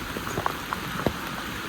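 Steady rain falls outdoors as a dense, even patter with a few louder drops landing close by.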